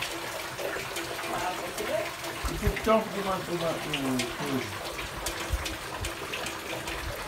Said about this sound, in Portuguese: água ali está correndo